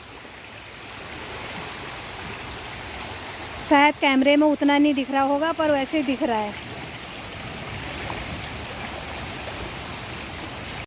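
Rain falling by the Ganga river ghat in Haridwar during the monsoon, a steady broad hiss of rainfall that runs the whole time, with a person speaking briefly over it in the middle.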